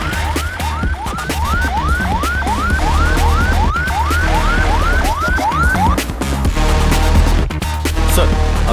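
An ambulance siren wails loud and close in a steady rising sweep that repeats roughly every half second, then gives way to a denser, more chaotic blare.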